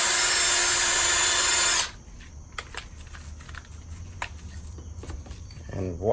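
A power drill spins a brake caliper pin being scuffed with Scotch-Brite during a Brembo brake install on a BMW X5M, a steady loud high whine that cuts off abruptly, followed by quieter handling clatter.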